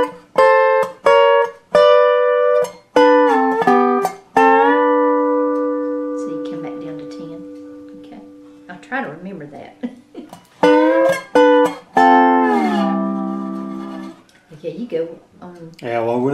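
Dobro slide guitar phrase with plucked, twangy notes and a long sustained slide tone in the middle, close and loud, followed by more quick picked runs that fade out.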